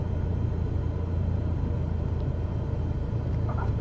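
A light aircraft's engine throttled back to idle as it crosses the runway threshold into the landing flare: a steady, low droning rumble heard from inside the cabin, even throughout with no breaks.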